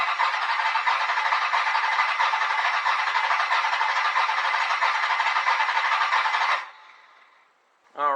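A V8-swapped Fiero engine cranks over steadily for several seconds, a loud continuous churning whir that cuts off abruptly, followed by a brief tonal squeal at the very end.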